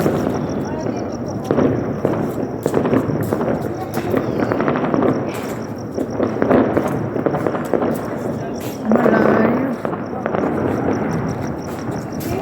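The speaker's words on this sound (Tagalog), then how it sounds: "Ang dami mga fireworks pero malayo siya." Distant New Year's Eve fireworks at midnight pop and crackle in a dense, ongoing rumble while people talk nearby over the steady background noise.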